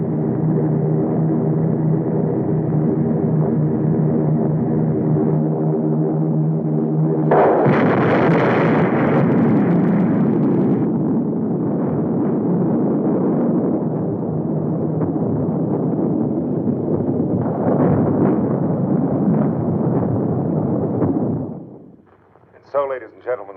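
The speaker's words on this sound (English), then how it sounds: "The atom bomb has been dropped on the United States of America." Bomb blasts on a 1952 film soundtrack, a loud sustained roar of explosions rumbling for about twenty seconds with a sharper burst partway through and a second swell near the end before cutting off.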